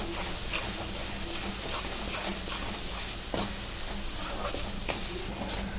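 Masala roasts in a pan for a Maharashtrian chicken kharda dish, giving a soft continuous sizzle with scraping stirs and occasional taps of a spoon, fairly quiet and close.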